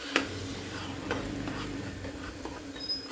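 Sambar of masoor dal and mixed vegetables bubbles steadily in a pot, a continuous low simmering hiss with faint scattered clinks, no voices.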